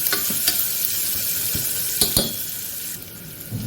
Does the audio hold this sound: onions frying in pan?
yes